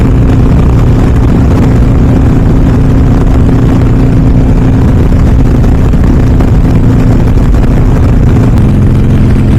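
Harley-Davidson Sportster Iron 883 fitted with a Hammer 1250 kit, cruising in fifth gear in traffic at about 2,700 RPM, a loud, constant engine drone with wind rush, heard close and steady throughout.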